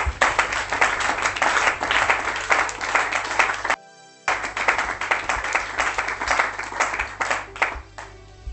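A church congregation applauds and claps loudly and steadily during a French-language worship service, with a brief silent break midway before the clapping resumes.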